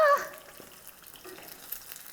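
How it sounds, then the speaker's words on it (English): Egg frying in a hot pan or wok while cooking Thai basil chicken, a soft steady sizzle with faint splattering that opens with a brief louder burst, then settles low and even. "So, yeah, we want it to be sizzling."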